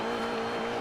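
Porsche 944 engine droning steadily at speed in Forza Horizon 2, a brief continuous car sound with a faint hint of tire noise, no voices.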